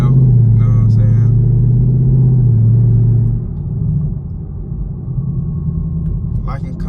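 A 500HP straight-piped Chevrolet Camaro SS heard from inside while driving, a loud deep exhaust drone that holds steady, then drops to a lower, rougher rumble as the throttle eases.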